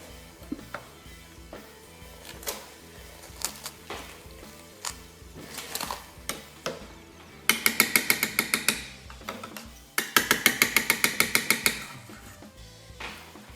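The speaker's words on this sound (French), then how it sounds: "je vais démarrer à nouveau mon robot" A Companion kitchen robot runs while blending a spiced carrot soup with cream, giving off bursts of rapid, rattling mechanical pulses between quieter clunks and knocks, heard close by.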